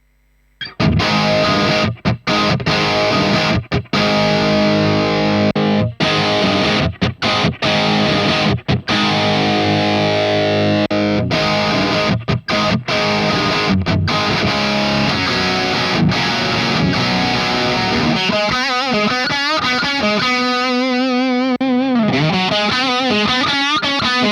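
Heavily distorted electric guitar through a Hotone Ampero 2 modelling a ROOTS RA-2230 amp with an impulse response plays loud chords and riffs for about twenty seconds, with brief pauses and a choppier, rhythmic passage near the end.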